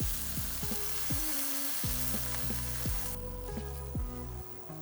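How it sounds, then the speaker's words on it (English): Steak fat sears in hot oil in a pan with a loud, constant crackling sizzle close up, overlaid by repeated low tonal sweeps from background music. "We're gonna sear off that fat"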